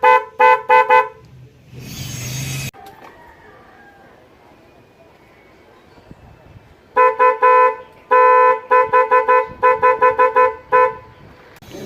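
A motorcycle dual horn wired through a relay, fitted to a scooter such as an NMAX, Aerox or Mio, sounds in loud rapid clusters of short toots, with a quieter stretch of faint background noise between the opening and closing bursts.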